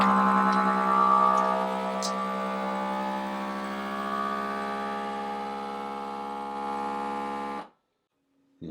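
A vacuum sealer machine, used on dry-cured Italian sausage and soppressata, runs with a loud, steady motor hum for several seconds, then cuts off abruptly near the end.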